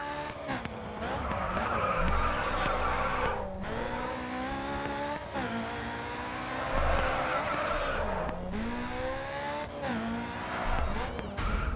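Car tyres squeal continuously through long drifts in the racing game GRID 2, the wailing skid rising and falling over a steady engine roar.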